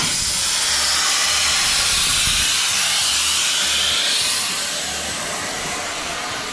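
Air compressor being drained of moisture in an auto body shop, a loud steady hiss of escaping air with a faint rhythmic low thump beneath, easing slightly toward the end.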